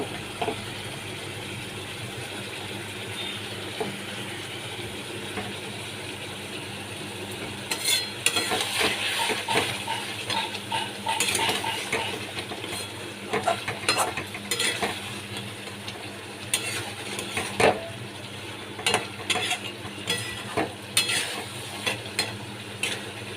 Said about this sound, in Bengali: মাছগুলো আমি এর মধ্যে দিয়ে দিচ্ছি সব কটা মাছ দিয়ে আমি ভালো করে একটু কষিয়ে নেব